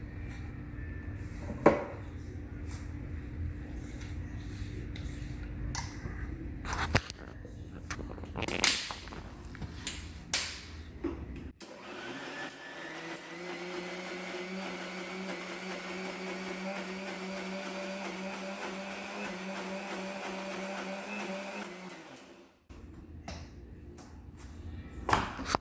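Mixer grinder grinding channa chutney: a steady loud motor whir running for about ten seconds in the middle, framed by clattering handling and knocks before and after.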